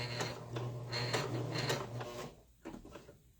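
Sewing machine stitching a Christmas tree quilt pattern, a quiet steady mechanical whir with rapid repeated needle ticks that halts briefly and restarts near the end.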